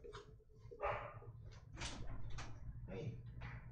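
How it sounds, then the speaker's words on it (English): A pet dog barks in bursts somewhere in a home, the sharp yaps spaced through the stretch and fairly distant and muted. "My dog's barking if you can hear."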